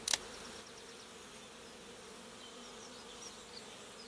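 Honey bees at a beehive just out of winter keep up a soft, continuous buzzing hum, faint and steady, with a brief louder knock at the very start.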